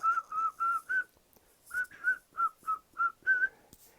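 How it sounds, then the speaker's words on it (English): A man whistles a short tune alone, in clear separate notes with a brief pause partway, close and fairly quiet. "I'd just start whistling"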